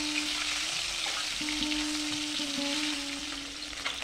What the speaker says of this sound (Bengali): মাছগুলোকে লাল লাল করে ভেজে নেব।